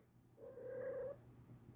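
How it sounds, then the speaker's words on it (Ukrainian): A cat gives a single drawn-out, moaning meow, faint and close, against a quiet background with a low steady hum. "Зараз буде атака кішки, а може не буде."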